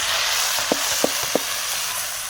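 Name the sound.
okra, green chili and onion poured into hot oil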